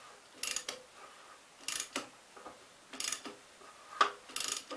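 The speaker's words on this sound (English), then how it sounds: "Can turn it over with a ratchet." Ratchet wrench turning over a 1952 Gravely L engine that is stuck, heard as four close bursts of quick metallic clicking at a steady, unhurried pace with short pauses between strokes.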